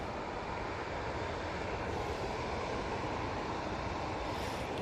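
A Boeing Dreamliner airliner taxis at Manchester Airport, a steady, moderately loud engine rumble and hiss that holds evenly throughout with no voices over it.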